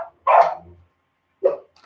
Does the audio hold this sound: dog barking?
yes